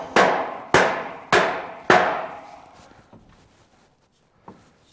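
Sheet tin tapped back into place on a homemade sheep race, four sharp ringing metallic knocks in a steady rhythm, then a few fainter taps, close and without talk.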